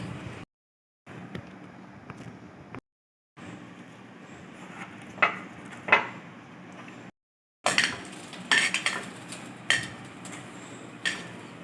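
Utensils clink and scrape in a bowl while mashed mango is mixed with mustard powder, irregular knocks and clatters broken by short silent gaps.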